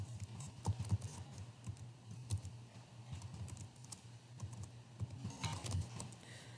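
Keys tapped on a computer keyboard in quiet bursts while a caption is entered on an artist's website, with irregular soft clicks and pauses against a low steady hum.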